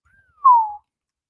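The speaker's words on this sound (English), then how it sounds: "He be whistling whenever some crazy shit happen." A single short whistle from a person, a brief rising-then-falling tone that slides gently downward, heard alone and fairly close with silence around it.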